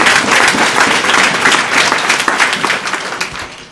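A church congregation at a sermon claps loudly and continuously for the Lord Jesus. The applause is dense, sustained and enthusiastic, with no speech over it.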